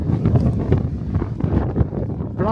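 Wind gusting across an open mountain summit in Slovenia, a steady rumbling buffet on the microphone lasting the whole stretch, with no talk.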